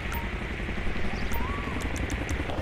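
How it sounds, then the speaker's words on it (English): A police helicopter in GTA V with the LSPDFR mod, its steady low rotor drone running continuously and fairly loud throughout, with no voices over it. "Let's get a helicopter on that."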